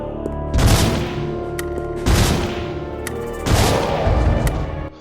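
Shotgun blasts at medium range in Resident Evil Survivor 2 – Code: Veronica, three heavy, booming shots spaced about 1.5 seconds apart, each with a long decaying tail over a steady low game hum.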